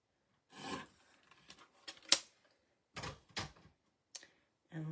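A mini paper trimmer slices excess card in a few short rasping strokes with quiet pauses between, close and crisp, separated by small taps and handling noises.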